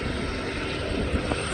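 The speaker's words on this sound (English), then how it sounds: "Seems like they're shutting the helicopter down." An AS350 medical helicopter sits on a park helipad as it shuts down, its turbine whine and rotor thrum steady and fairly close, with no one speaking.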